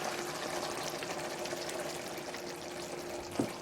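One cup of heavy cream pours into a pan for keto sausage gravy, a steady soft liquid stream with a faint sizzle, ending with a small clunk.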